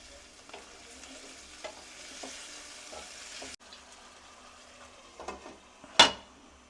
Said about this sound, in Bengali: এইবার আমি আবার একটু নাড়াচাড়া করি, গ্যাসটাকে একটু বাড়িয়ে দিই।